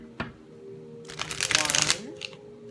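Tarot cards riffled and shuffled by hand, a short tap then a dense burst of crisp card flutter lasting under a second, with a brief softer shuffle after; a voice hums faintly underneath.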